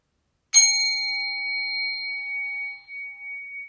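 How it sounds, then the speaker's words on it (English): A single clear strike of a meditation bell rings out, bright and metallic, its pure tone sustaining and slowly fading over about three seconds in an otherwise silent room. "Then I start ringing this one 4 times,"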